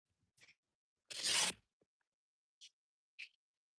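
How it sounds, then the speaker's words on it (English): Scissors snip a small sliver off quilting fabric, one longer crisp cut followed by a few short faint snips in near silence. "So I'm just gonna cut a teeny bit off"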